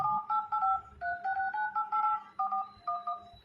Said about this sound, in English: as you can see guys, this dial pad tone is on.